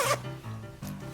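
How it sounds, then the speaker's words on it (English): Zipper on a handmade felt accessory for a Snow White art doll, opened and closed in two short, close zipping strokes with a brief pause between them. "We have the zipper part. It opens and closes"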